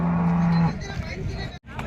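A Haryana-breed buffalo gives one short, loud, low moo at the Ghodegaon livestock market, followed by general market noise and a brief drop to near silence.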